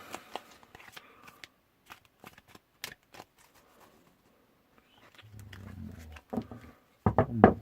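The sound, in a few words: bridge shuffling a tarot card deck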